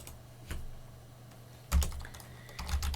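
Computer keyboard typing, scattered close clicks: a lone keystroke, then a cluster of rapid taps and another short run near the end, over a low steady room hum.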